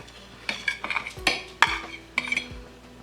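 A knife cuts into a mini Korean egg bread loaf, with close scraping and clinking of metal against a pan or plate, a handful of light clacks and taps over about three seconds.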